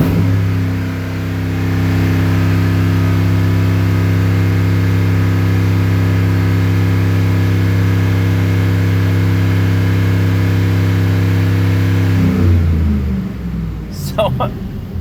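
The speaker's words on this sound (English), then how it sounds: "So I'm doing accelerate to wide open throttle." A Chevrolet Avalanche engine, recently fitted with a new cam sensor and sub harness, runs at a steady loud drone that rises and falls slightly, then cuts off sharply near the end, followed by a few clicks.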